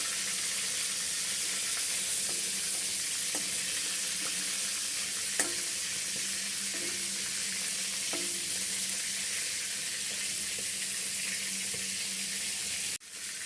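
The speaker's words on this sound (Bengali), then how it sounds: "চিকেনগুলো এমনভাবে ভাজতে হবে যেন বেশি ভাজা হয়ে না যায়" Chicken pieces fry in hot oil with a steady, bright sizzle, punctuated by a few soft clicks and taps from stirring.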